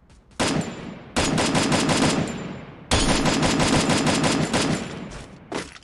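An M4 rifle fires in the Free Fire video game in rapid automatic bursts, one short burst and then two long loud ones, with no talking over them.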